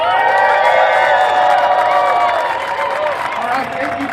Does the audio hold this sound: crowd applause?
yes